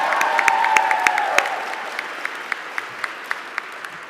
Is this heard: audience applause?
yes